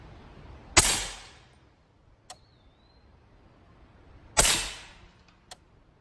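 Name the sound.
gunshots from a .30 caliber rifle with swaged copper bullets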